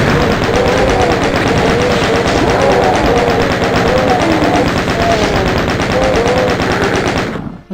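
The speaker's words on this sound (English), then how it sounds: "I'm going to switch to the chain gun." A chain gun fires nonstop in Classic DOOM, a loud, rapid, even stream of shots lasting several seconds before cutting off abruptly.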